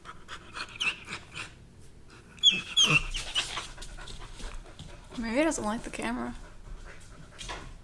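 A dog named Sausage pants with quick breaths and faint whimpers close by, mixed in with people talking over it.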